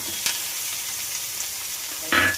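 Carrots, curry leaves and green chillies sizzle softly in a pan for fried rice, a steady low frying hiss with a brief louder burst near the end, no talking.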